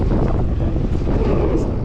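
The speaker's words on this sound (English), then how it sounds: "it's gotten way windier all of a sudden" Strong wind hits the microphone outdoors at an enduro bike slopestyle jump spot, making a loud, continuous rumbling buffet with no clear talk.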